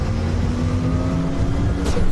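Performance car engine accelerating, a loud, close, steady roar with a rising growl and a faint whoosh near the end, with no voices.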